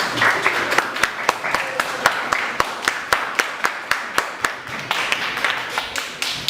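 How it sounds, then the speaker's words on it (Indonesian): A school class applauds together in a classroom, crisp rhythmic unison clapping repeating steadily throughout, with a faint voice underneath. "Tepuk tangan untuk semuanya."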